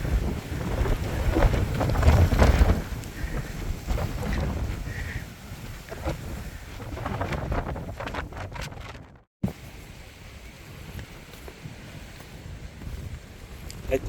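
Wind gusting along the open Dragon's Back mountain ridge in Hong Kong, a steady, loud, low buffeting rumble against the microphone, with a brief cut-out midway before the blustery roar resumes.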